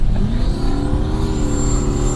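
A Jaguar XJ fitted with a big-turbo iron-block LQ4 V8 making about 650 horsepower accelerates hard, its engine droning loud and close with rising harmonics and no voices over it.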